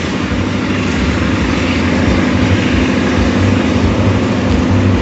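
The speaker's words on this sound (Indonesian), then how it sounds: "Nah, ini lokomotif Sri Tanjung." Sri Tanjung passenger train locomotive idling at Cipinang depot, a steady loud rumbling engine drone with low pulsing throb, continuous and close, no voices over it.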